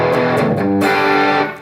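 Thick, saturated chords from a Pinter Instruments Model SB1 electric guitar with heavy high-gain distortion, ringing loud and sustained, then fading slightly at the end.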